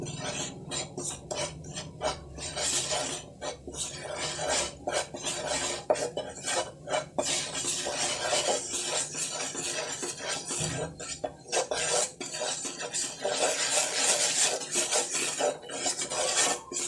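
Chicken filling for a cheese paratha fried on low heat in a pan while a utensil scrapes and clinks against the metal, giving a steady, close, continuous rasp of stirring with occasional sharper knocks.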